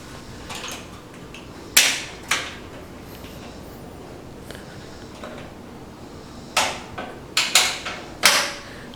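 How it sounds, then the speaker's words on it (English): Metal latches on a Char-Griller Akorn kamado grill clamp down against the lid gasket, giving several sharp close clanks and clicks, one pair early and a cluster of three or four near the end, between quieter rustling. "So whenever you clamp these latches down, let me get that clamped in here real fast."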